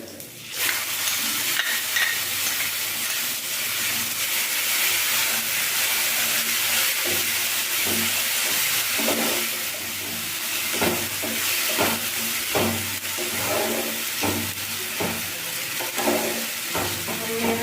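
Spices stirred into browned onions frying in oil for a Bengali katla fish curry, a loud steady sizzle with repeated scraping strokes of the spoon, continuous and close.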